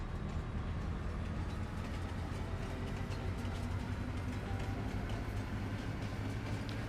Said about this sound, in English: Get the train.